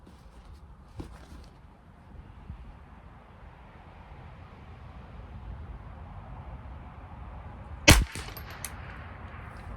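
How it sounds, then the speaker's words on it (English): A single sharp .22 rifle shot from a Ruger 10/22 or Bergara BXR firing CCI Standard Velocity ammunition cracks out loud and close late in the clip. Steady wind noise runs underneath, with a fainter click earlier on. "One last shot. Here we go."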